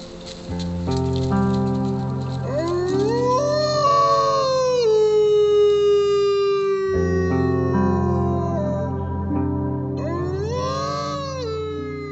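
A long, rising and falling wolf howl in North Cascades National Park, with sustained tonal wails, overlapping voices harmonizing at times, fairly loud and clear throughout.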